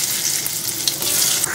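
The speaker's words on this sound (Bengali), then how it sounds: "গোটা গরম মশলা একবারে দিয়ে দেবো, দারচিনি। মশলাটা যে একটু ভাজা ভাজা হয়ে আসবে" Whole garam masala and cinnamon sizzle in hot oil in a home kitchen, a loud, continuous crackling fry with a few sharp pops and no voices.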